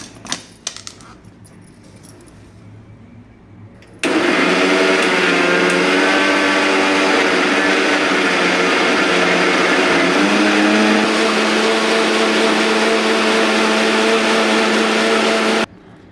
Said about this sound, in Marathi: आणि हे आता मिक्सरला लावून छान बारीक करून घेऊया